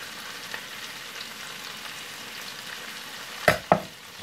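Zucchini and squash cook in a pan with a steady, even sizzle throughout, broken near the end by two sharp clanks of a utensil against the pan.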